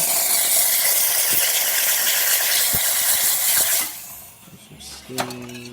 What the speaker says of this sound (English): let's do some steam